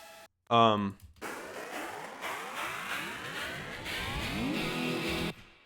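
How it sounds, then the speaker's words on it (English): Sweeping frequency-shifter effect on a music track, tones gliding down and then rising back up in repeated smooth arcs over a sustained bed, loud and continuous after a brief opening burst. "all that is just a frequency shifter. So they're starting lower and they're going back up."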